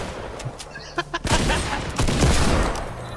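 Rapid video game gunfire, including shotgun blasts, in a chaotic multiplayer match, with a few sharp shots and then a dense, loud burst of overlapping firing, with players' voices mixed faintly underneath.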